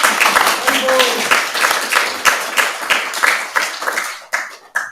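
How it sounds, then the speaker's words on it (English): Audience applause at a Srimad Bhagavatam class, a close, lively round of many hands clapping with uneven rhythm that thins out toward the end, with a few voices underneath. "Yeah, give him an applause."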